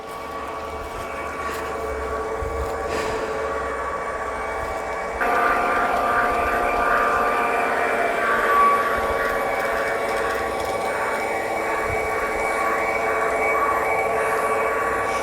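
A steady mechanical rumble and hum of a model train running along its track, close and continuous, growing slightly louder partway through.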